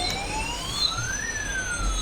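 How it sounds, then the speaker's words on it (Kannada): Toy police jeep playing an electronic siren, a loud close wailing tone that sweeps up and down continuously, heard alone without speech. "ಈ ಥರ ಮಾಡಿದ್ರೆ ಪೊಲೀಸ್ ಜೀಪ್ ಮ್ಯೂಸಿಕ್ ಬರುತ್ತೆ ನಿಮಗೆ"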